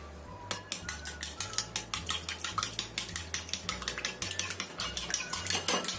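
Rapid, steady clinking of a spoon against a bowl as an egg mixture with seasoning and stock powder is stirred, repeating rhythmically at close range without any voices.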